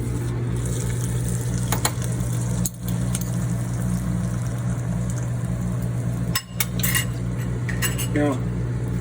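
Metal spoons scrape and clink against each other and a bowl while shaping falafel mixture, with intermittent sharper taps over a steady low background hum.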